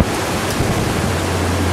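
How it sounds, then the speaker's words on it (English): Strong hurricane wind from Hurricane Ivan in September 2004 roars in steady, loud gusts near the coast, a broad noisy rush with a low rumble throughout, heard alone without talk. "The wind, though, has definitely picked up. As you can tell, it's going in pretty good gusts."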